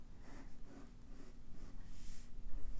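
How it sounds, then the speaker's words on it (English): Soft pencil strokes on paper drawing a light oval, faint repeated scratchy swishes close by over a quiet room hum. "Draw your oval lightly."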